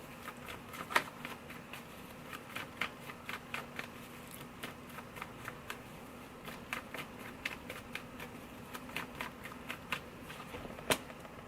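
Tarot cards being pulled from a deck one after another, a run of soft, crisp card snaps and slides with a low steady hum underneath, quiet and close, with no talking.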